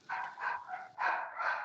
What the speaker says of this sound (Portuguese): os meus cachorros aqui estão fazendo o maior escarcéu lá fora